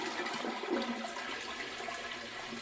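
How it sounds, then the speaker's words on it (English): A household toilet flushes with a steady rushing gurgle of water draining from the bowl, close by and continuous throughout. "Go ahead and flush your toilet."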